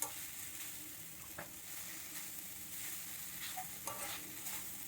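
Grated coconut and flattened rice frying in ghee, a faint, even sizzle with occasional light stirring scrapes.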